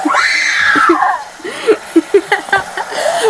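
A person lets out a loud, wavering scream, then breaks into a series of short choppy laughing or whimpering bursts, close and alone in a tense roadside police stop.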